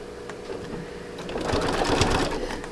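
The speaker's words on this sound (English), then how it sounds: "I'm just going to tack this with a couple little stitches." A sewing machine runs in a short burst, tacking a couple of stitches through fabric-covered rope, its whirring rising toward the end and carried over a steady mechanical hum.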